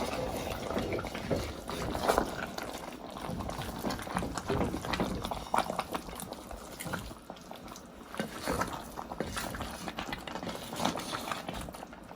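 Stewed chicken sizzles in its own juices in a pot, a faint, steady crackle with soft bubbling that continues unbroken.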